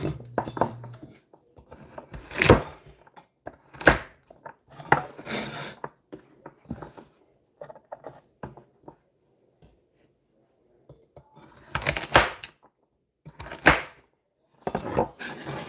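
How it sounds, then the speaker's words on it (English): Baby carrots cut into thirds with a knife on a board, giving sharp separate chops in small clusters with quiet gaps between them. "So I'm working with some baby carrots. Just gonna cut these into some thirds."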